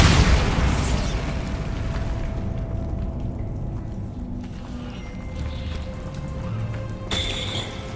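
A Bombarda spell in Hogwarts Legacy detonates in a loud, booming blast that fades into a long rumbling tail. A sharp crack and crackle follow near the end.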